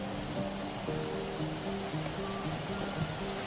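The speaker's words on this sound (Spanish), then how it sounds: "Es la cascada de Chamarel." The 100-metre Chamarel waterfall in Mauritius gives a distant, steady roar, faint under a few sustained tonal hums, with no speech.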